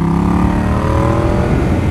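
A 2018 Yamaha MT-07 motorcycle engine accelerates with a loud, continuous growl that climbs steadily in pitch through the gears. It is close and fills the whole stretch with no talking over it.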